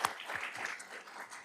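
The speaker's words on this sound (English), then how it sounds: "can we give a round of applause for our moderator tonight who did a wonderful job" A theater audience at a Tustin candidate forum applauds the evening's moderator, a dense, steady burst of many hands clapping that holds at an even level for a brief moment.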